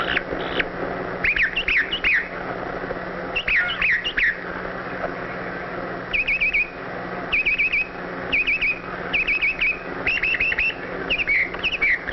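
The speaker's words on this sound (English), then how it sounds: "The male redwing selects the nesting area and sings sweetly to persuade a female redwing" A male red-winged blackbird sings among cattails in spring, giving short repeated chirping phrases in bursts across the recording, fairly close, over a steady hum of old film sound.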